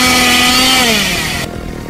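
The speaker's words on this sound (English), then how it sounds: "here I've got chainsaw sound effects" A loud chainsaw sound effect runs near and steady, then its engine pitch slides downward before the sound cuts off abruptly.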